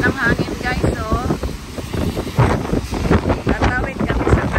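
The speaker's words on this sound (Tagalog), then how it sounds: "Grabe, lakas ng hangin guys," Strong gusty wind buffets the microphone outdoors near a hotel by Mall of Asia in Pasay, Philippines, a steady loud rumble running under people talking throughout.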